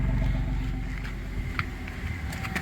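A 1997 Dodge Grand Caravan SE, abandoned on a farm for over four years, idles through its exhaust with a steady, close, low rumble and a few faint clicks on top.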